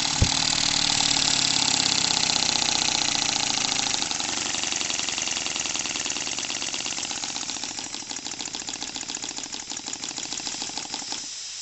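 A small Stuart D10 live steam model engine chugs steadily with a fast, even mechanical rhythm, a hissing broadband wash over it, loud and close throughout with no talking.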